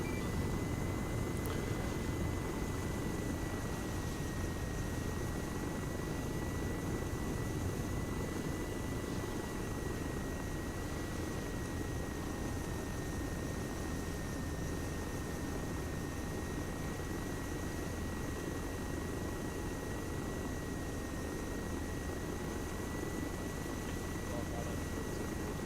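A helicopter in the military video game Arma 3 drones continuously, its rotor and turbine noise steady and loud throughout, with a thin high whine riding above and faint voices mixed in.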